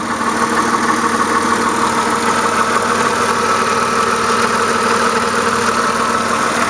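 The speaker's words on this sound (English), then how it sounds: "it's currently running so you can hear how well it runs." A 1999 Mercedes-Benz E320 with a 3.2-liter engine idles under the open hood, giving a steady, even, close-up hum with a light vibration and no pauses or talking.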